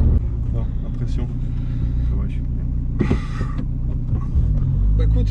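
A Seat Ibiza 6L with a 1.9 TDI diesel engine and turbo drones and revs from inside the car, a loud low engine rumble under continuous conversation, with a brief rush partway through.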